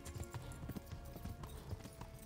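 Galloping horse hooves in the medieval video game Kingdom Come: Deliverance, a steady rapid clip-clop of a ridden horse at full speed, moderately loud and continuous with no talk.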